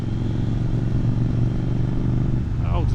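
A motorcycle rides along a forest road in the Sabaduri woods, its engine giving a steady, close mid-pitched drone that holds evenly for a few seconds with a slight shift near the end.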